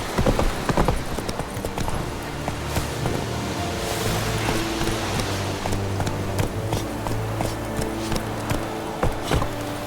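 Roach, a horse in The Witcher 3, trots with brisk, rhythmic hoof clip-clops on hard ground, close and steady throughout, with a low musical drone underneath.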